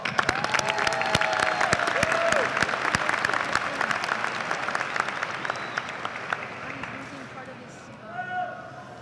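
Applause from a large graduation-ceremony crowd at a high school, dense and steady across the hall, with scattered cheers and a few voices, slowly fading toward the end.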